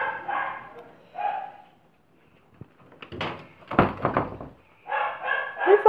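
Dogs at a home in the morning bark in short bursts alongside door and household clatter, the barks close and loud with quiet gaps between them.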